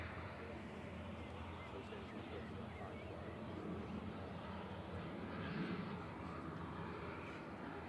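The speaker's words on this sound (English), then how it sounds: "Aer Lingus Regional 3328 from Dublin. This is EI FSL, just rolling out an ATR 72-600." An Aer Lingus Regional ATR 72-600 turboprop taxis out at night at Manchester Airport, giving a steady, distant engine drone with a slight swell midway, while a voice talks over it.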